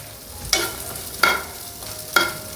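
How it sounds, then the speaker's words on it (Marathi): Mild Kashmiri chili and tender coriander stems frying in a pan for tomato soup, soft sizzle under three sharp stirring clacks of a spoon spaced under a second apart, close with no talking. "ही सुद्धा याच्यात छान फ्राय करून घेऊया"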